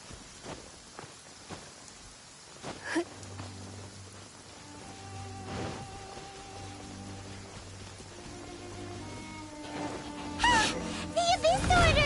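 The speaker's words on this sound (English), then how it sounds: "It's raining." Rain falls in a video game as a soft, steady patter beneath talking, broken by a few scattered taps and scuffs, and the clip ends in a short burst of louder clatter.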